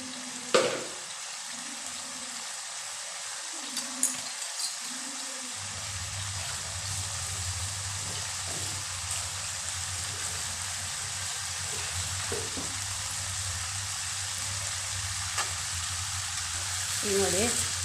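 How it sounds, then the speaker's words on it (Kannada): An egg fries in a pan for egg bread masala, giving a steady, soft sizzle that runs throughout, with a few light clinks and a voice speaking briefly near the start. "ಸ್ವಲ್ಪ ಅಲ್ಲೇ ಬೇಯಲಿ ಅದು ಮೊಟ್ಟೆ."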